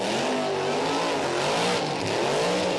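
Burnout car with over 1,000 horsepower at a Summernats burnout event, engine screaming at high revs under a dense, continuous tyre squeal and roar, loud and sustained.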